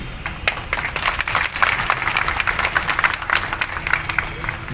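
An audience at a public talk bursts into sustained applause, dense clapping from many hands filling the hall, with a few murmuring voices mixed underneath.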